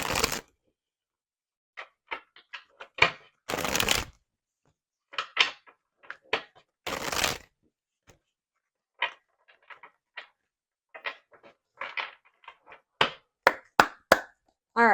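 An oracle card deck is handled and shuffled alone, with a few loud bursts of riffling among scattered light taps, flicks and card slaps, close by and intermittent across the stretch.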